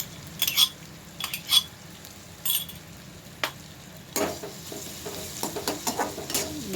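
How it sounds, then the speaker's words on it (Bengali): Garlic, ginger, capsicum and onion frying quietly in a pan, broken by clinks and scrapes of a spoon stirring, irregular metallic taps over a soft frying hiss. "রসুন আদাটা ভালো করে হাফ ফেটে করে ক্যাপসিকাম পেঁয়াজের সাথে ভেজে নেব"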